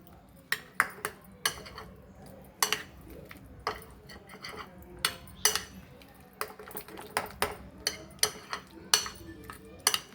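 Spoon scraping and clinking against a bowl while soya chunks are mixed with corn flour, giving irregular sharp taps and clicks over a soft background.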